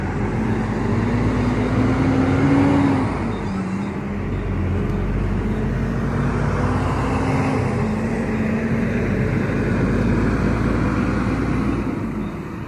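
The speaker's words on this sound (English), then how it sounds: "the trucks sometimes really hit their brakes hard, and then they grind their gears to power up again" A truck rolls along a road past speed bumps, its engine droning steadily and gears grinding as it powers up again, a continuous close, loud rumble with a rising engine tone early on.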